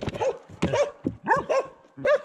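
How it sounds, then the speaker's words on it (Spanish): Several dogs bark excitedly at a cyclist on a ride, a rapid series of sharp, close barks and yips in irregular bursts. "Estos perros son escandalosos y ya está"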